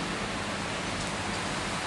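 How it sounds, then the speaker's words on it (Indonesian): Steady rain hisses evenly and close throughout, with no voices, during a stop on a trip toward Muara Teweh in Central Kalimantan with a Scania R580 truck hauling a 60-ton Komatsu D375A dozer. "Cuaca sekarang ini hujan."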